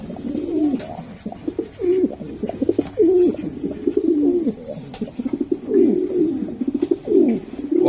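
A pair of racing pigeons, a male and a female, coo repeatedly and loudly at close range in throaty rolling phrases, with a few soft flutters between calls.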